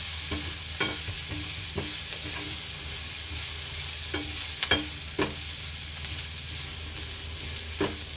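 Cabbage curry stir-fries in a pan, a steady close sizzle broken by several sharp scrapes and stirring clatters spaced irregularly.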